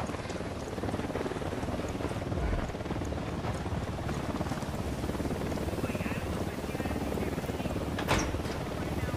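Helicopter in Ghost Recon Wildlands, a constant loud rotor drone with wind-like rushing that holds steady throughout, with some voice activity underneath.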